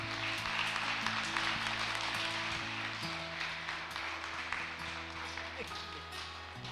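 A church congregation claps steadily for several seconds. The applause forms a dense, sustained wash over a low musical hum, and no talk stands out above it.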